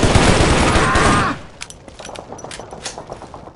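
Loud sustained automatic gunfire in the video game Shadow Ops: Red Mercury, a dense close burst that cuts off abruptly and leaves scattered fainter shots and clicks behind.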